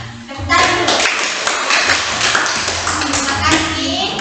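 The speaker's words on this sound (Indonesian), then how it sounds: "Tepuk tangan dulu." Classroom students clap their hands together in a dense, continuous patter that fills the room for several seconds, loud and close, with no break in the sound.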